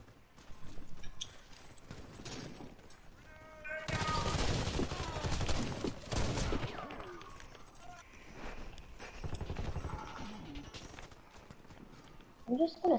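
Gunfire in the online shooter game Warface, a dense loud burst of rapid shots mid-clip with scattered game effects, heard alongside players talking.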